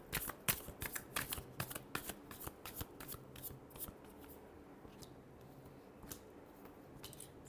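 Tarot cards being shuffled by hand, a quick run of crisp riffling flicks that tapers into sparser, softer card snaps, close and quiet with no talking.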